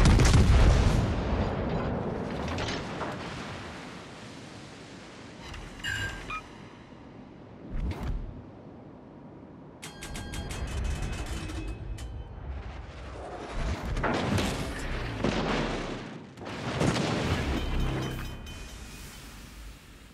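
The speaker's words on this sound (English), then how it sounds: "Concentrate fire on the enemy warship." Heavy naval guns firing at an enemy warship in a video game, with an Italian battleship involved: repeated deep booming salvos and rumbling blasts, loud and close, with rolling echoes between shots.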